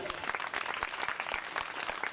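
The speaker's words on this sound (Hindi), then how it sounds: "एक बार हर्षित को जोरदार ताली बजाओ।" Audience at a devotional Bhagavat Katha gathering claps loudly and steadily, a dense burst of applause running throughout with no voices heard.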